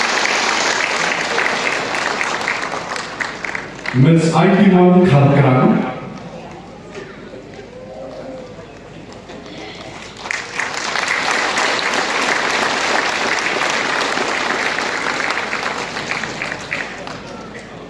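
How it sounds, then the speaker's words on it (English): Applause from a crowd at a community event, rising and falling under a host's voice as names are called out between rounds of clapping. "Can you support in the round of applause,"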